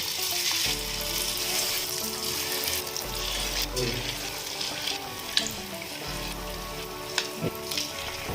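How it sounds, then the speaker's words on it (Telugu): Punugulu fritters deep frying in oil for challa punugulu, a continuous crackling sizzle with faint stirring clatter and a few sharp clicks, steady and close, with no voice. "అలాగే మిగతా వాటిని కూడా డీప్ ఫ్రై చేసుకుందాం పునుగుల్ని."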